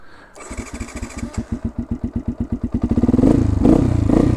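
A cold Beta 125 RR two-stroke motorcycle engine starts and runs with a loud, steady, even thumping idle. It rises to a harsher, fuller revving roar near the end.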